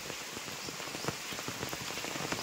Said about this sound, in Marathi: पाऊस आज दिवसभर पाऊस असा